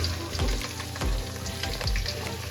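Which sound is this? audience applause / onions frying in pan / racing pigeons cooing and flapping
onions frying in pan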